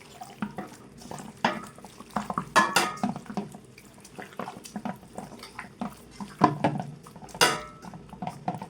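Raw meat is mixed and kneaded by hand in a home kitchen, giving wet, squelching slaps and clicks in an irregular rhythm, close and fairly soft, with occasional clinks of a bowl.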